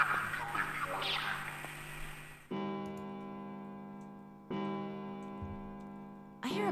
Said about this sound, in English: It's the clock telling us the time. It rang 9 times, so 9 o'clock then?